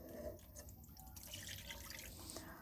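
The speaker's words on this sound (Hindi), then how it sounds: "मैदा भून चुका है, इसमें गर्म दूध डालेंगे" Hot milk is poured into roasted flour (maida) in a pan, giving a faint, soft liquid trickle and splashing close by for a couple of seconds with no talk.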